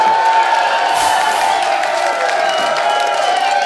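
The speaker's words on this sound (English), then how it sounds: "This crowd is on their feet." A wrestling arena crowd cheers and claps for Ricky Steamboat's entrance, loud and continuous, with a sustained tone running beneath the roar throughout.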